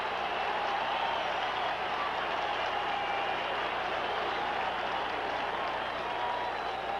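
Stadium crowd at a 1981 NFL football game, Denver Broncos at Buffalo Bills, keeps up a steady, dense roar of cheering and clapping throughout, with no break or lull.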